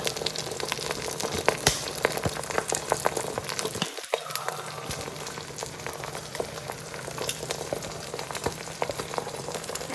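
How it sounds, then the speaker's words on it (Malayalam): Eggs seasoned with salt and pepper fry and get scrambled in a pan, giving a steady close sizzle and crackle that runs the whole time, with one brief dip near the middle. "ഇതിലേക്ക് നമുക്ക് ആവശ്യത്തിന് ഉപ്പും കുരുമുളകൊക്കെ ഇട്ടിട്ട് നന്നായി ചിക്കി പൊരിച്ചെടുക്കണം"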